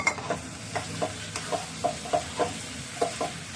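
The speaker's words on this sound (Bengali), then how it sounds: "এবার নেড়ে চেড়ে নামিয়ে নেব, আর বেশিক্ষণ রাখবো না" Vegetable roll filling with nuts and raisins being stirred in a pan, with a dozen or so soft scraping strokes in an uneven rhythm over a low sizzle, close and fairly quiet.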